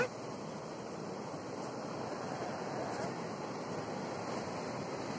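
Sea waves at Jetis beach in Cilacap, a steady broad roar of surf mixed with wind rumble on the microphone, continuous and fairly loud throughout, with no clear talk.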